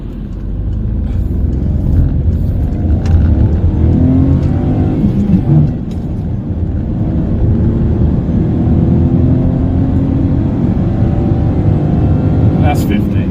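Peugeot 2008 car engine accelerating, a loud continuous drone that climbs gradually in pitch, heard from inside the car, with a brief dip midway.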